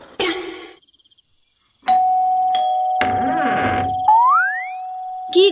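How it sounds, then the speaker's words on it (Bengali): An electric calling bell at a house door rings out in bright, sustained electronic tones, with one chime following another after a short opening burst and a pause, loud and close. "চল দরজার বাইরে কার্তিকটা এলে কলিং বেলটা টিপে ওর দি।"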